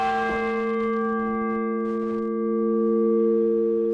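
A large clock tower bell strikes once near the start, then its deep, rich tone hums and slowly fades, ringing on alone for several seconds.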